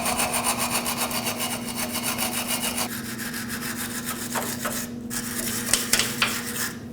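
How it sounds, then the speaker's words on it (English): A wire brush scrubs rust and debris from the lower control arm mounting area on the frame of a 2005-2021 Nissan Frontier 2WD, fast rhythmic rasping strokes close up, then slower scrapes and a few metallic taps, no talking. "Now I'll just take a wire brush, clean up the mounting area on the frame, making sure there's no debris or rust in the way"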